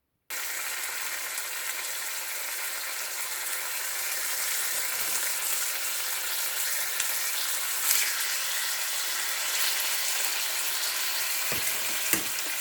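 A steak fries in a pan with a constant, even sizzle. The sound is moderately loud and fairly close, with a few faint clicks near the end and no talking.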